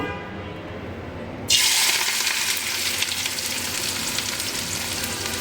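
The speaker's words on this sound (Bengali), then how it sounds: "পেঁয়াজ, মরিচ, কাঁচামরিচ এগুলো দিয়ে ভাজি করি" Chopped onions with green chillies hit hot oil in a pan, a sudden loud sizzle starting after a quiet moment and continuing as a steady, close frying hiss.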